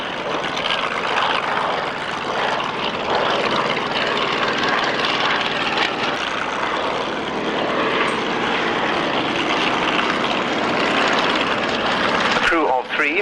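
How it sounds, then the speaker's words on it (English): A Fairey Swordfish carrier-borne torpedo biplane flies at the 1996 Yeovil airshow, its loud propeller engine droning steadily and close for the whole stretch before dropping away at the very end. "A crew of 3 for this carrier-borne torpedo spotter reconnaissance aircraft"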